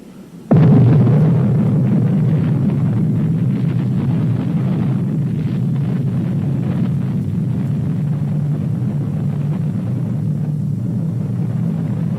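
An atomic bomb test explosion erupts with a sudden loud onset, then a sustained deep roaring rumble that holds steady and heavy for many seconds.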